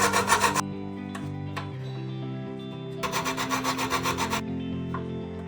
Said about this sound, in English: Cutting a hole for the power socket and smoothing the edges.